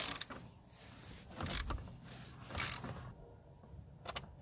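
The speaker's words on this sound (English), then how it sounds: "So this is when you're going to need your extension and your 13mm. And we'll remove that bolt." Ratchet and 13mm socket on an extension working a battery bracket bolt loose on a Volkswagen mk5 Jetta/Golf, quiet close-up clicks and creaks in a few short bursts with faint rustling between.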